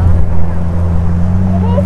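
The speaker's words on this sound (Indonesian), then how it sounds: "mesin segera dinyalakan ya" A boat's engine rumbles steadily close by at a beach in Gunung Kidul, a loud low droning tone with a harmonic hum that holds throughout.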